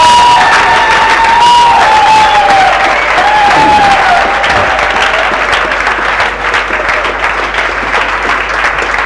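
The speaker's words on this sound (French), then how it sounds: "tu es en train d'acclamer pour le roi des rois" Audience at a church summer conference applauding and cheering loudly and continuously, a sustained wash of clapping with shouts and a high voice rising above the crowd throughout.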